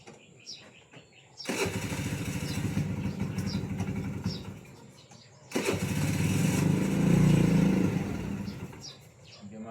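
A motorcycle engine starts and runs with a rough, buzzing drone, cuts out briefly, then fires up again louder and keeps running close by.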